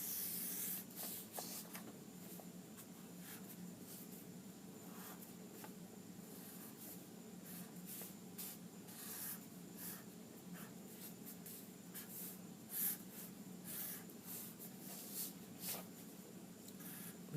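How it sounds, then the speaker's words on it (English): Pen drawing lines on paper for a flower wreath design, soft steady scratching strokes in short repeated sweeps, close but quiet against faint background hiss. "Let me draw it very quickly."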